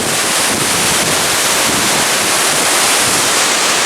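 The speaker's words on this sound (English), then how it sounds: "It's very windy. A lot of wind." Strong wind on the Rainbow Falls Trail in Gorges State Park roars loudly and steadily into the microphone, a dense unbroken rush with no voices.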